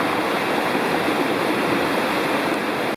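Water of the North Fork of Citico Creek in Cherokee National Forest rushes steadily, a close, continuous broadband roar that holds even throughout before cutting off abruptly.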